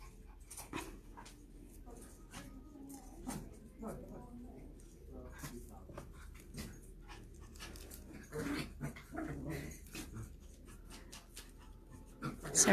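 Dogs play somewhere nearby in a home crafting room, with panting, small whimpers and scuffling that rise and fall. A person talks quietly over them.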